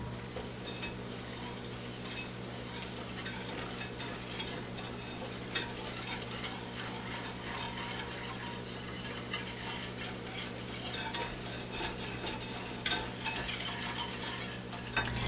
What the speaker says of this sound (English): we will add 1/2 cup of 1/2 and 1/2, and mix into a runny paste